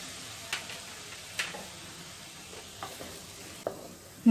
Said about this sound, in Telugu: నిమ్మరసం వేసుకొని కలుపుకుందాం.